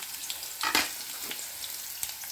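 Onions frying in hot oil in a pan for a cauliflower gravy curry, giving a steady soft sizzle with a brief louder crackling burst and occasional stirring clicks, close and alone with no talk.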